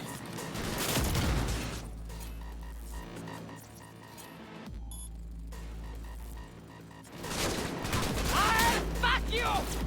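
Bursts of gunfire from a weapon in the video game Cyberpunk 2077 rattle in loud clusters at the start and end, with a low throbbing game hum and a voice talking between them.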